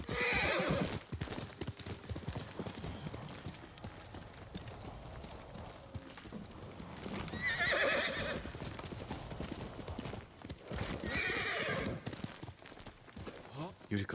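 Horse hooves clip-clop and a horse neighs repeatedly in the video game Ghost of Tsushima, with several whinnies spread across the span over a backdrop of game ambience and someone talking.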